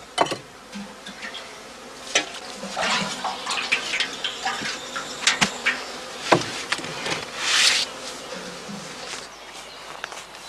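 Honey bees buzz around straw skep hives baited with sugar syrup out on a northern German heath, a steady insect hum with individual bees droning past up close, broken by scattered knocks and footstep-like taps.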